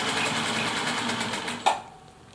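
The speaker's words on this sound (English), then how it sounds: "you can just keep on sewing, making yards and yards and yards of straps for masks for our medical personnel" A Singer Featherweight sewing machine runs steadily, stitching fabric mask straps with a fast, even mechanical chatter that stops abruptly with a small clunk near the end.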